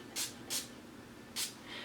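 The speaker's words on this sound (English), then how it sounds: "I'm going to spray the brush with the NYX" NYX Dewy Finish setting spray misted onto a makeup brush in three short, close hissing bursts, two in quick succession and one more after a pause, in an otherwise quiet room.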